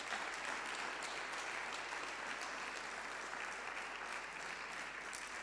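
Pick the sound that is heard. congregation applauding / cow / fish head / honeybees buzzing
congregation applauding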